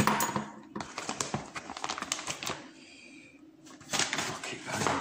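Metal padlocks taken out of a parcel, clinking and clattering in a quick run of sharp metallic taps, a short quiet pause, then more clinks; close and fairly soft.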